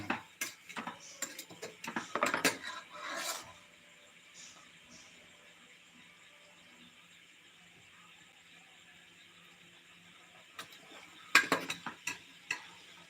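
A utensil stirs food in a pan, giving bursts of close scraping and clinking at the start and again near the end, separated by a quiet stretch with faint sizzling.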